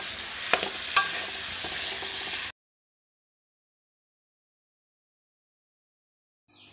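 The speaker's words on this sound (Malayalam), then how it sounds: "ഇതിൽ പിടിച്ച് നന്നായി ഒന്ന് ഫ്രൈ ആവാൻ വേണ്ടിയിട്ട് നന്നായിട്ട് ഇളക്കി കൊടുക്കുക." Chicken kondattam masala sizzles in a pan while a spoon stirs it, with a couple of sharp clinks against the pan, then the sound cuts off abruptly into silence.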